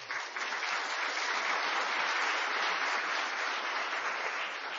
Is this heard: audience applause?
yes